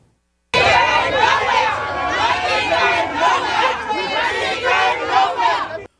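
Boisterous, heckling crowd of Progressive Liberal Party supporters, a loud, continuous babble of many overlapping voices shouting and chattering close by.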